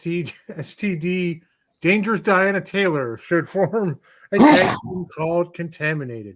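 A man's sharp, explosive sneeze bursts out in the middle of speech, brief and loud against ongoing talk.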